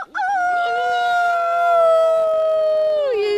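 People imitate a howl with their voices, one long sustained wavering wail held for about three seconds and sliding down at the end, loud and close, in a backyard.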